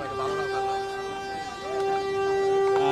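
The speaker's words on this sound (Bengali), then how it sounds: "ট্রেনটি এখনই ছাড়বে" Steady tonal hum of a train standing at a station and about to depart, crowded with worshippers boarding after Friday prayers at the Bishwa Ijtema gathering, with voices and bustle around it and brief rising tones.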